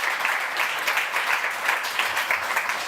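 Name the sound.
audience applause at a campaign launch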